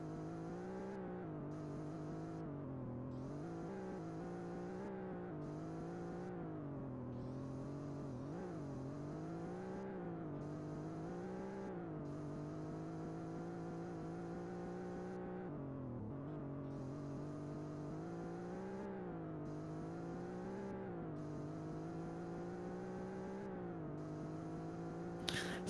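Race cars in the ION i8 Zurich ePrix, heard as a steady engine drone whose pitch rises and falls through repeated shifts and revs, continuous and fairly even in level, with no voices.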